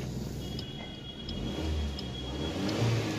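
Maruti Suzuki Swift with starting and acceleration problems, engine running and revving near the microphone, a rough steady rumble that swells slightly toward the end.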